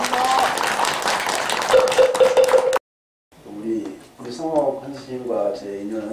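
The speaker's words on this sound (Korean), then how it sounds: "다시 한번 큰 박수 부탁합니다." Crowd applause at the opening of a Buddhist monk's election campaign office, clapping under a voice for a few seconds, then a brief gap and someone speaking alone.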